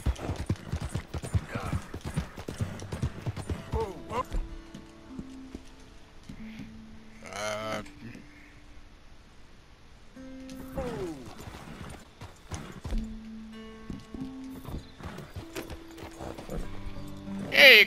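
Red Dead Redemption 2 gameplay: hooves clatter in a quick galloping rhythm with a horse snorting, under game music and a few spoken lines.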